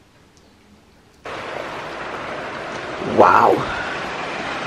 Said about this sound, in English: the rain is just not playing. It's not even rain, it's storm, it's wind.